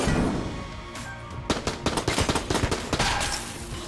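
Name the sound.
revolver and pistol gunshots in Enter the Gungeon video game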